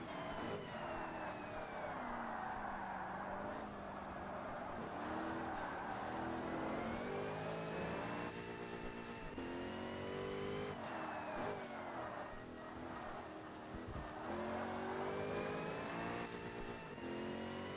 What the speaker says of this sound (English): We got the super fast Corvette now. Oh my gosh, the acceleration is unreal.